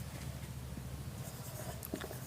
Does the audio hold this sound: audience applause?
no